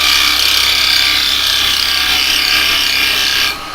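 A woodturning gouge, likely a half-inch spindle gouge, cuts a flute in spinning yew on a lathe, giving a loud, continuous close hiss and rasp that stops abruptly just before the end.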